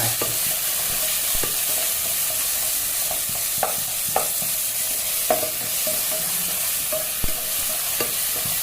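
Garlic and ginger frying in a pan on a gas stove, with a continuous hissing sizzle broken by sharp scraping clinks as the pieces are stirred, close and steady throughout.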